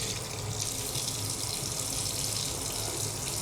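Tap water runs steadily into a sink while hands are washed in a healthcare setting, a continuous close hiss with no talk over it.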